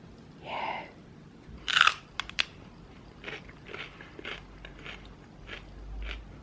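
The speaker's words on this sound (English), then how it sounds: "I've got a snack, which is celery and peanut butter with Marmite" Someone eats celery topped with peanut butter and Marmite. A sharp, crisp bite is followed by close, moist crunching and chewing that comes in small irregular bursts.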